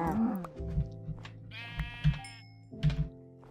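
Sheep in Minecraft give a drawn-out bleat in the middle, with soft thuds of footsteps or blocks spaced around it over a low ambient hum.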